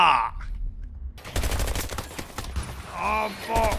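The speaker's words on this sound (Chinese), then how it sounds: "有个机枪打哦" Machine gun fire in Battlefield 2042 plays as a loud, continuous burst of rapid shots after a quieter opening, mixed with game sounds. A player shouts and laughs over the gunfire.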